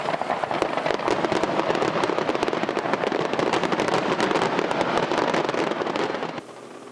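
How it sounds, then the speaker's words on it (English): A 4th of July fireworks display in Derby crackles and pops in a dense, continuous barrage of rapid bursts for several seconds before cutting off abruptly. "it was an awesome display of fireworks"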